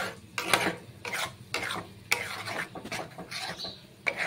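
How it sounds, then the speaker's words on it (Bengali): Spices with Kashmiri chilli powder and a splash of water stirred and sautéed in a pan for an egg dish, repeated scraping strokes of a spoon with soft sizzle, close and steady, no talk. "ভালো করে কষিয়ে নিচ্ছি।"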